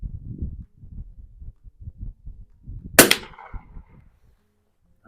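A single sharp gunshot from a Mossberg 44US rifle cracks out loud and close, ringing briefly before fading, with low rustling handling noise around it.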